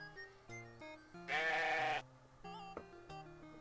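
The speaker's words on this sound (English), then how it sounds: "Let's go look at the sheep and see if he's got anything cool going on." A sheep bleats loudly inside a Robin Hood video game, one drawn-out wavering bleat set against soft background game music with a few short tones around it.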